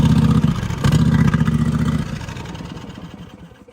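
An engine starts after a turbo repair and runs with a loud low rumble and clatter. It surges briefly, then drops and fades to a quieter, uneven idle.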